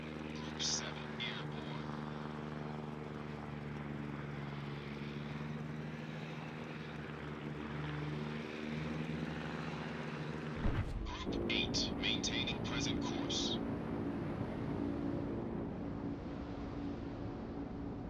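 Carrier aircraft engines in the naval video game World of Warships, on an IJN carrier: a steady, droning propeller hum that shifts abruptly partway through to a rougher, busier roar with brief sharp accents.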